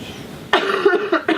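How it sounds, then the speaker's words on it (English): A single adult cough, close and loud, with a short second burst after it, heard alone indoors on a barge being readied for renovation. "Well, you've just coughed."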